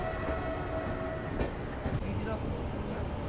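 Train on the Chennai Central to New Jalpaiguri superfast express nearing New Jalpaiguri railway station, with a steady rumble of rolling wheels throughout and a couple of brief sharper knocks, heard from on board.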